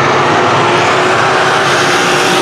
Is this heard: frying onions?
no